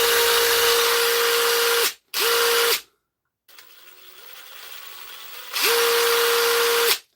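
A repaired power tool, likely a drill, runs in loud steady bursts of high whine, stopping and starting three times, with a quieter whirring spin-down between the bursts.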